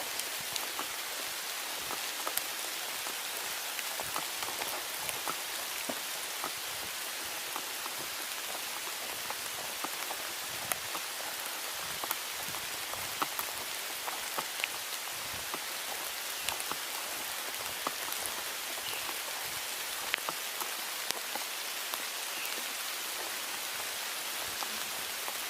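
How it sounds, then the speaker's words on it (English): Rain falls steadily on surfaces outdoors during a spring bird walk, a constant soft hiss with scattered drips, fairly faint and unbroken throughout. "The rain might interfere with things though."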